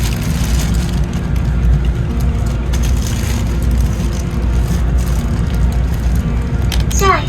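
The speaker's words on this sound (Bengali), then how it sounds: "ট্রেন ছেড়ে দিল।" A Taiwan train pulls away and runs steadily, with a loud, continuous low rumble of wheels and motor. A brief high squeal comes near the end.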